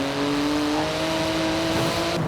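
A 3.8-litre twin-turbo flat-six supercar making 700 horsepower, driven in Forza Horizon 4, holds a loud steady engine drone at constant revs, close and continuous with no talk.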